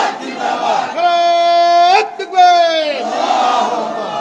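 A large crowd chants a slogan in unison, loud sustained shouted voices with a brief break before a second long call, at a religious rally where listeners raise their hands.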